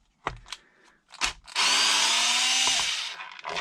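Power driver backs screws out of a Traxxas XRT RC truck. Two short trigger bursts come first, then a sustained loud whirring run of about one and a half seconds, close up.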